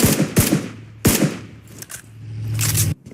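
Gunfire in PUBG Mobile during an esports grand final match: two sharp close shots in quick succession, a third a moment later, then fainter distant cracks and a rising engine-like rumble.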